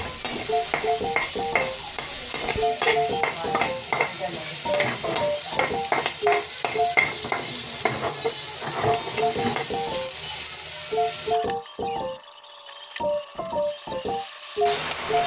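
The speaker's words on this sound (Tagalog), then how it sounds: "Sunod naman ay isutay na natin yung garlic and onions." Garlic and onions sauté in a hot pan for creamy garlic chicken, with a continuous sizzle under rapid, repeated scraping and clinking strokes of a utensil stirring against the pan; the sizzle briefly drops away before the stirring resumes.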